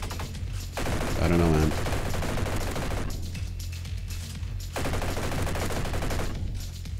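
Dense automatic gunfire from an energy assault game loadout (FAMAS or Tavor-style rifles), sustained rapid bursts in two long stretches, loud and close, with someone talking briefly over it.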